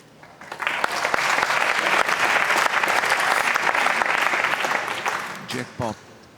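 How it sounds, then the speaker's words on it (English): A crowd at the 2019 World Pool Masters final applauds a fine shot with dense, steady clapping that swells quickly, holds for several seconds and then fades, with brief speech near the end. "They should be applauded there for applauding Kazakis because it was a fine shot."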